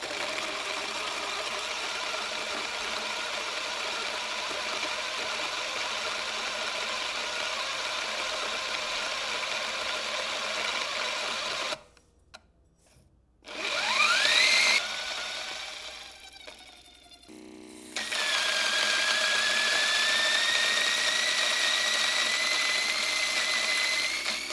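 Weber Workshops EG-1 coffee grinder running through an 18-gram espresso dose, a steady whirring grind that stops briefly, changes pitch, then resumes with a higher whine, loud and close with no talking.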